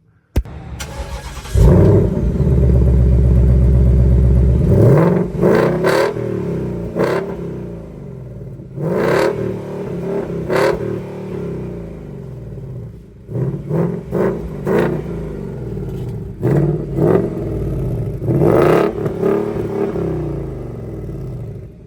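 A Ford S550 Mustang fitted with an X-pipe exhaust cranks and fires into a loud, deep idle, then barks out several sharp revs with uneven pauses between them, close and aggressive, with no talking.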